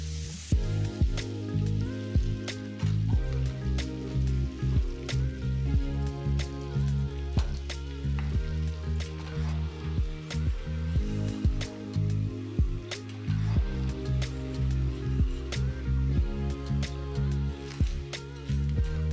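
Flour-coated chicken popcorn fries in hot oil, giving a dense, continuous crackle and sizzle with sharp pops scattered throughout at steady loudness.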